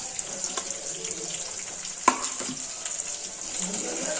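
Onions, coriander leaves and curry leaves fry in a pan for a mutton gravy, giving a steady close sizzle broken by one sharp utensil clatter midway and light stirring scrapes.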